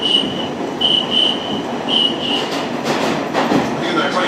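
An R line subway train runs steadily, its constant rumble overlaid with high whining squeals from the wheels and brief clacking.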